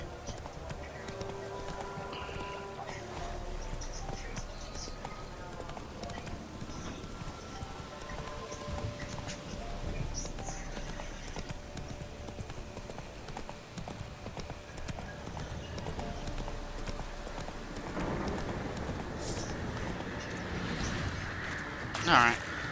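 Roach the horse trots in The Witcher 3, a steady clip-clop of hooves running under someone talking throughout, with a brief whinny near the end.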